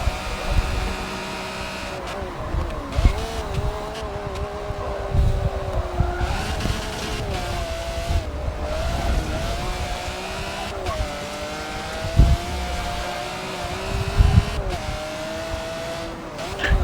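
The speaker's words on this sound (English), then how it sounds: "that Porsche's just pulling away" A Porsche race car in a racing video game, its engine whining and shifting through gears with tire squeals and competing cars, with people talking over it.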